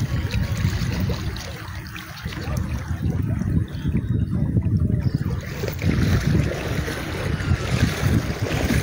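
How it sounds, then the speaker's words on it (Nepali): Swollen floodwater rushing past the Malangwa border gate after heavy rain, a loud continuous turbulent roar with low churning and wind buffeting the microphone. "जलस्तर निकै नै बढेको छ।"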